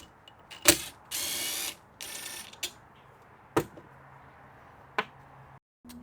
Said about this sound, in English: we are going to take off this screw right here for the handle.